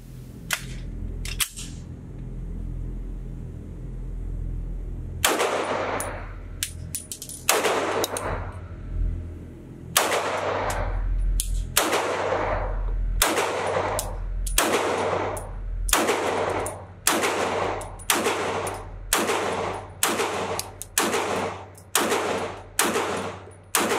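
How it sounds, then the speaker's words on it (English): Repeated gunshots from a full-size Walther PDP pistol with a 4.5-inch barrel at a shooting range: a few scattered shots, then a steady string of sharp, loud, evenly spaced cracks, each trailing off briefly. "So let's get this thing to the range. I'm going to show you my first shots."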